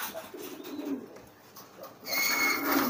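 A pigeon feeds its chick with soft, faint cooing and murmuring calls up close, followed by a brief louder rustling hiss near the end.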